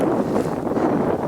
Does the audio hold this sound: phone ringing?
no